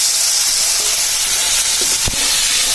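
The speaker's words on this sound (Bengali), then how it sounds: "এখন মা করলাগুলো ভেজে নেবে।" Bitter gourd (karela) frying in a pan, a steady close sizzle and hiss throughout, with a brief stir or clatter near the end and no talk.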